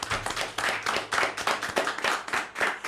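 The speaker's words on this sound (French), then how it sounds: "On peut les applaudir bien fort, tous les quatre." A small crowd claps steadily and briskly, rhythmic hand claps blending into warm applause, fairly close, with no voices.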